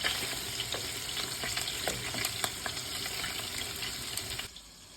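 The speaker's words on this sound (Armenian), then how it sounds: "այս չափով կպատրաստեմ կոտլետները և կտապակեմ" Beef patties sizzle and crackle steadily in a hot pan, close and continuous, then the sizzling drops off abruptly near the end.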